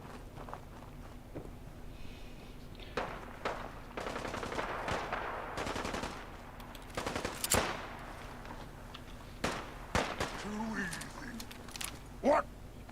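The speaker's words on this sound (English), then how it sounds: "I hear gunfire, but I don't know where it's coming from." Scattered bursts of distant gunfire in the video game Fallout 4 crackle and pop at irregular intervals, some in quick runs, over a low steady hum with occasional footsteps.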